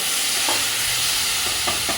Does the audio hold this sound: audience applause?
no